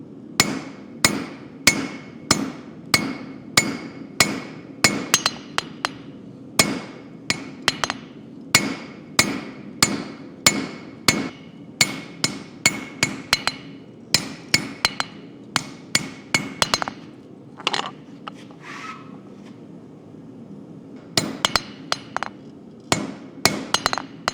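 Rapid, regular hammer blows ring on a steel bar being forged, dozens of sharp strikes in bursts with brief pauses, bright and close.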